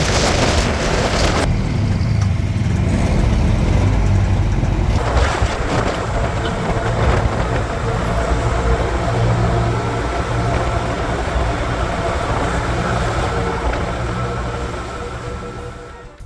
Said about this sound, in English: It is like an open motorcycle with no helmet, no windshield, nothing, so it's windy,